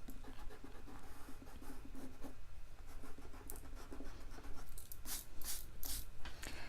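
A pencil scratches across paper while drawing bubble letters, with repeated short strokes and scribbling bursts that grow brisker toward the end, close and clear against a quiet room.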